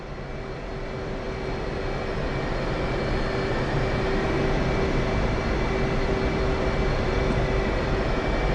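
Military jet taking off in the DCS World flight simulator, a loud continuous engine roar with a steady whine, swelling slightly as it builds, alone without talk.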